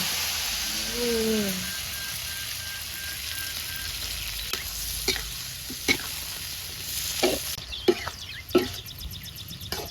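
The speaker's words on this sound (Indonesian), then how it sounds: "Lor, sambelnya digoreng, Lor." Sambal chili paste frying in a pan, a steady low sizzle with occasional sharp stirring clicks and scrapes growing busier toward the end, faint chirping and rustic background sounds, no speech.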